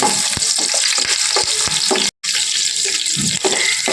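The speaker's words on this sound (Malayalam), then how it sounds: "അതിനുശേഷം നമ്മൾ ഒരു 3-4 പച്ചമുളക് അരിഞ്ഞതിട്ട് കൊടുക്കും." Chopped green chillies fry in hot oil, a bright crackling sizzle with scattered scraping stirs, cut by a brief moment of silence midway before the sizzling resumes.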